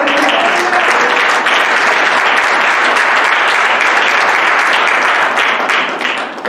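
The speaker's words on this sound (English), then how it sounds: "We're going to give God a clap offering." A church congregation claps together as an offering during a worship service, a dense, loud, steady wash of applause that holds evenly before fading slightly at the end.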